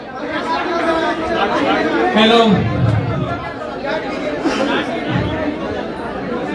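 A crowd chatters noisily at a press conference in Patna, a steady close babble of many overlapping voices, with one voice briefly calling out above the hubbub.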